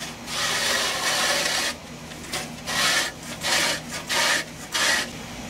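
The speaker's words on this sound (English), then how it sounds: "So let's test the mower, see how it works." Remington push reel mower cutting grass two to three inches tall, its spinning blades giving a steady whirring rasp, then a series of short separate passes, close and alone.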